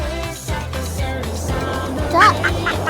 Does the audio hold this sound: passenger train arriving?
no